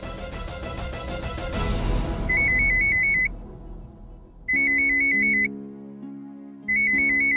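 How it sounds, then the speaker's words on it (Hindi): A phone rings over and over as someone calls repeatedly, its bright electronic ringtone melody sounding in repeated bursts with brief gaps between them and no voices over it. "कोई मुझे बार बार फोन कर रही है"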